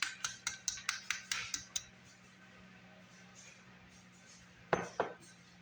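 Soaked yellow split peas tipped into a Vitamix blender jar, a quick series of about nine hard clinks and taps, then quiet, then two more sharp knocks.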